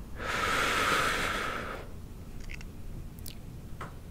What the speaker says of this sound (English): we're gonna breathe in